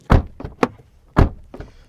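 Audi A3 sedan trunk lid pushed shut, a few close, heavy thumps and knocks in quick succession, loud and dull with no voices.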